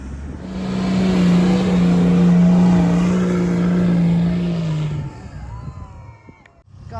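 A motorbike or scooter engine revs hard and steady for several seconds while climbing a sand dune in the Simpson Desert, then drops away quickly, leaving quieter background sound.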